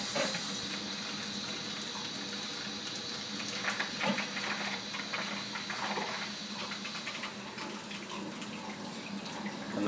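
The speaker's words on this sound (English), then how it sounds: "we'll start the wort chiller" Wort chiller running after the boil while brewing red ale, a continuous rushing flow of water like a running tap, steady and fairly close, with light splashing and no talking.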